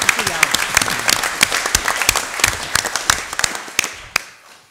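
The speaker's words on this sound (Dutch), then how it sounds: "En je mag voor jezelf klappen." An audience at a Dutch municipal election debate in Dongeradeel claps loudly, individual sharp claps standing out as the applause gradually thins and stops near the end, with no talk over it.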